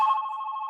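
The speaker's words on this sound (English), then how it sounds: "Oh, geez. That's my phone." A mobile phone rings with a steady electronic tone, a sustained, fairly loud chime held through the whole short moment with no voices over it.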